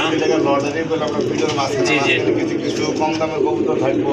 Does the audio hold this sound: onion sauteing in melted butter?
no